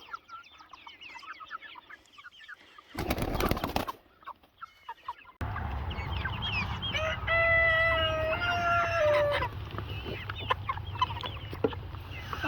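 Chickens cluck and a rooster crows on a small farm with newly hatched chicks, the loud close calls rising over a steady low hum and scattered barnyard noise, with a brief burst of clatter early on.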